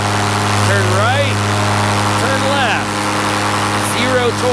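A paramotor engine runs at full throttle during a powered paraglider climb out, a loud, steady, close droning hum with a constant tone, with someone talking over it.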